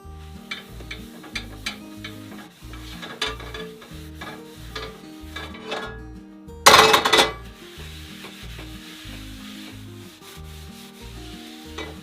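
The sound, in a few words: oiling a hot cast iron skillet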